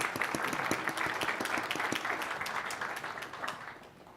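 Conference audience at a BSidesLV 2025 security event applauding, a dense wash of many hands clapping with sharp individual claps on top, steady and fairly loud before tapering off toward the end.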